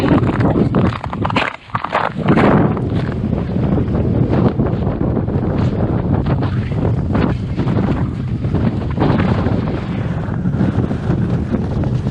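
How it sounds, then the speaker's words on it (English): Wind on a snowy winter mountain trail in the White Mountains roars steadily and loudly across the microphone with gusty surges, and faint footsteps crunch underneath. "the wind hasn't completely died down, but it's calmer"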